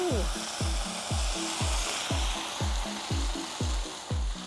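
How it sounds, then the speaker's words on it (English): A cup of water hits a hot pan of rice on an outdoor grill, sizzling and hissing loudly while a regular beat of rhythmic thumps runs underneath. "We're going to start with just 1 cup of water."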